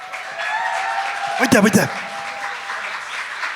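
Moderate applause rises from a festival crowd greeting guests at a live talk show, a dense patter of clapping with a voice calling out over it.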